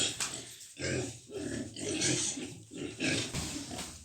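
A pig, a sow, grunts and snuffles repeatedly up close, in rough, throaty bursts with brief pauses between them.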